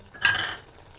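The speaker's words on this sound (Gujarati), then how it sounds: "હવે આપણે એમાં ચેવ નાખશું ત્યાર પછી આપણે થોડું હલાવી દઈશું" Sev is tipped into a pan of tomato vegetable curry and stirred, giving one short, close burst of rustling and scraping with a faint utensil clink that quickly fades.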